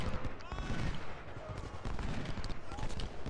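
Gunfire in a Civil War video game battle with artillery and cavalry, rapid overlapping volleys and scattered shots crackling continuously, with faint talk underneath.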